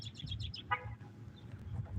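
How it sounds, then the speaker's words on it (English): A small bird chirps a quick series of high tweets, then a brief warble, faint over low rumbling outdoor background noise. "You hear the nice little birdies"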